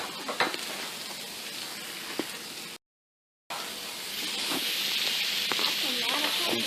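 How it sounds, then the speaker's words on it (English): Sausage and bell peppers sizzle and hiss steadily in a frying pan for a Portuguese feijoada, with a brief cut to silence midway and occasional utensil clinks. "Okay, while that's sizzling up,"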